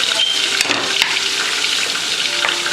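Cooking wine sizzling in a pan while a chicken and mushroom gravy cooks, a steady bright hiss of frying with a couple of faint clinks, close and alone without talk.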